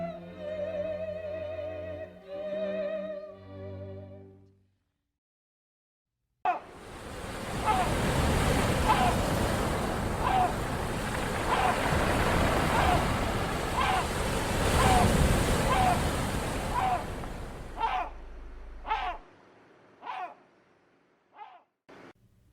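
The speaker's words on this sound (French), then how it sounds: "Le vent soufflait de manière insistante, de la mer vers la côte." Steady broadband wash of wind and surf blowing in from the sea toward the coast, loud and continuous for about twelve seconds, easing off into a few scattered brief knocks and quieter gaps near the end.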